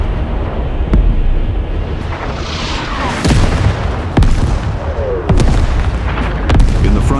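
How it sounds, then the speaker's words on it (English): Soviet artillery fire rumbles across a wartime front in 1941, with heavy low booms and distant thuds rolling over a dense, noisy background and landing at irregular intervals, loud and reverberant. "the first Soviet artillery shots echoed across the area"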